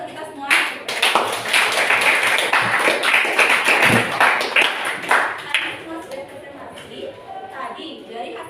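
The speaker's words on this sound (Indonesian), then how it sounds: "jadi beri tepuk tangan untuk kita semua." Students clap together in a classroom, a brief burst of fairly close hand clapping that starts after a moment, runs for several seconds and gradually thins out into scattered claps and room murmur.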